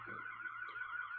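An ambulance siren or alarm sounds outside during a livestream. A continuous wavering wail is heard at a moderate distance for the whole brief clip, with no voice over it.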